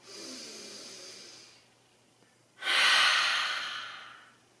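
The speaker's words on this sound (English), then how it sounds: "Inhale and exhale." During a yoga exercise, a close, soft exhale through the mouth is followed by a pause and then a louder, airy breath that slowly fades, with no talking over it.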